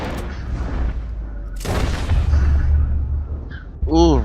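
Gunfire in the Western video game Red Dead Redemption 2: a heavy booming shot, then a second loud blast with a rumbling tail. Game music and sound effects play underneath.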